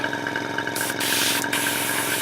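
A hobby spray gun hisses steadily as it sprays paint onto a Meng 1/35 scale Whippet tank model kit, a close continuous rush of air with two short breaks near the middle.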